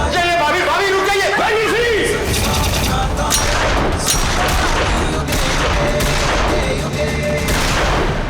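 Rapid gunfire bursts in a Hindi TV drama fight scene, loud and continuous with music and voices mixed in throughout.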